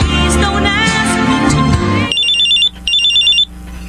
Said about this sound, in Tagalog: isang gabi, isang misteryosong tawag ang aking natanggap.